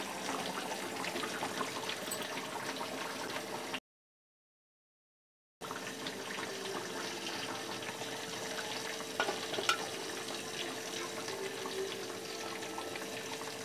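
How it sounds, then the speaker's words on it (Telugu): A pot of golden thread fish curry being stirred: soft, faint bubbling and wet scraping that runs steadily, broken by a short silent gap midway, with no talking. "ఒకసారి గిన్నె కదుపుకుంటున్నాను."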